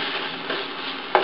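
Garlic and onion sizzle steadily in a hot pan with a faint stirring scrape and a brief clink near the end, heard close with no talking.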